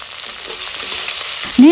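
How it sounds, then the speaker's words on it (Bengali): Chopped onion and green chili hit hot oil in a pan, a loud continuous sizzle that surges sharply at the end as more goes in, with a clink of a utensil. "এখন আমি এর মধ্যে দিয়ে দিচ্ছি কেটে রাখা পেঁয়াজ ও মরিচ কুচি"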